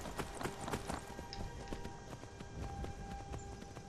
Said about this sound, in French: vu comment il court vite, mon cheval